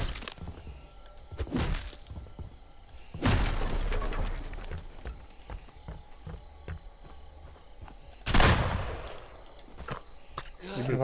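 Shotgun blasts in the Friday the 13th video game: sharp, loud booming reports ring out a few seconds apart over a steady bed of game ambience, with someone talking throughout.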